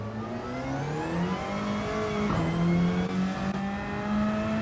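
An older Toyota Supra's engine in Gran Turismo 7 climbs steadily in pitch, drops briefly at a gear change and then keeps rising. The revving is loud and close, with no voices.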